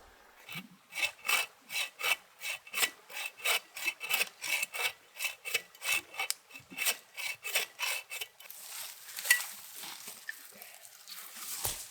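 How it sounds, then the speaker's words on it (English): An Agawa Boreal 15 folding bow saw cuts through wood outdoors, about twenty even back-and-forth rasping strokes in a steady rhythm, close and moderately loud, before the sawing stops and quiet rustling follows. "to process wood, we have the Boreal 15 by Agawa. And it's just a short 15-inch bandsaw, basically."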